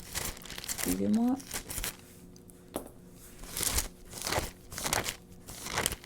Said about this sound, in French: Le bruit des feuilles.